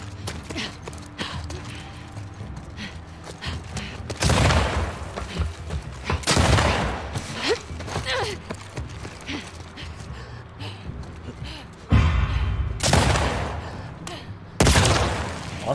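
Bursts of gunfire in The Last of Us Part II crack and boom in several loud volleys over a continuous rumbling background, with excited voices chattering throughout.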